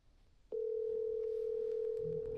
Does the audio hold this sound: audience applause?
no